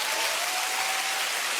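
Comedy show audience applauding, a steady dense wash of clapping that holds evenly throughout at moderate loudness, with no voices over it.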